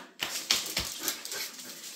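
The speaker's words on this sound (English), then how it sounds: "Yes, look at that crazy dog." A playful dog whimpers and yips in a few short, high, close bursts over about two seconds, with no talking.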